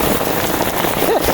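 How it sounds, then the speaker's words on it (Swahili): Heavy rain falling during an outdoor fight, a dense steady hiss of drops on surfaces with a brief voice near the end. "Mvua huku ni mingi sana."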